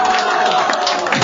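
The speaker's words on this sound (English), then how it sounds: "That's the weirdest applause ever" Live audience applause and cheering at a comedy Dungeons & Dragons show, a dense steady wash of clapping and crowd noise, loud and continuous throughout.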